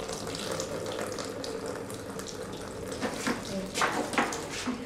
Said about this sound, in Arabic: عشان اغسل ايدي من الصابون